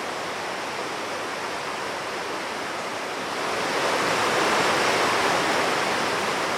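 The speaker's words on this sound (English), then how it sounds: "you can hear nothing but the sound of running water" Running water flows steadily through remote Welsh hills above Ffestiniog, far from any road. The rushing wash is unbroken and grows slightly louder halfway through, with no voices.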